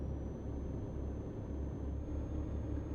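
In Euro Truck Simulator 2, a truck cruises along a road, its engine giving a steady low rumble and drone with a faint high whine above it, continuous and even throughout, no voices.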